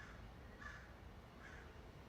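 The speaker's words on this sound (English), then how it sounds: "If you hear some birds, we're just taking in some nature sounds today." Crow-like caws call outdoors, two faint bursts about a second apart over a steady broadband background hiss, with no talking.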